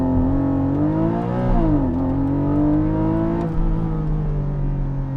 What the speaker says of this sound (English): give it full gas, launch control activated